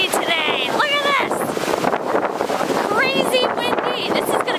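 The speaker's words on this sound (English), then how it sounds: "It is so windy today." Strong wind buffets the microphone outdoors in Florida near Universal Studios, a continuous loud rumbling roar throughout, with voices speaking briefly over it.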